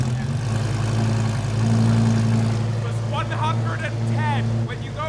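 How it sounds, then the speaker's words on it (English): A modified car engine held at steady high revs for an exhaust decibel meter test, a loud sustained drone with strong low harmonics, while people talk over it. "you have to rev it up to 5 or more, and then that's when they measure it"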